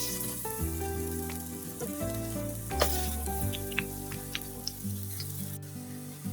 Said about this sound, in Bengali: এটা কিন্তু উল্টিয়ে পাল্টে সুন্দর করে এপিট ওপিট করে ভেজে নিতে হবে